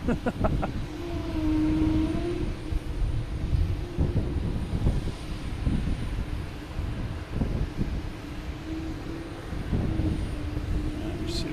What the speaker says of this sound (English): a very loud JetBlue in front of us trying to fire up its engines